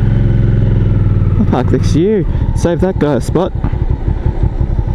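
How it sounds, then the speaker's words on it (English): A Yamaha MT-03 motorcycle idles nearby with a steady, close low engine rumble running underneath people talking. "Wait, that's a motorcycle."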